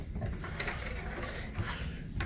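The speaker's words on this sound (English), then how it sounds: "drawers for your clothes" A cabin drawer for clothes on the Holland America cruise ship Rotterdam slides open or shut, giving a few soft wooden rumbles and light knocks, quiet and close.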